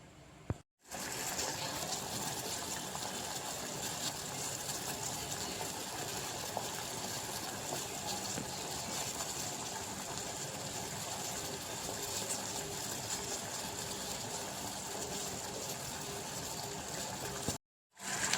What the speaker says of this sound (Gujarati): પછી આ ગોળ તેલવાળું પાણી બરોબર હવે એકદમ ઉકળવા દેવાનું